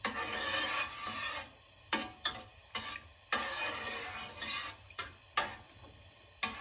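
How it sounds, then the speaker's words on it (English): A spoon is drawn around a pot of milk heating toward a boil for homemade paneer. Quiet rasping scrapes come in repeated rhythmic strokes against the metal, close and alone. "while the milk is boiling, make sure to consistently stir it so that there is no residue"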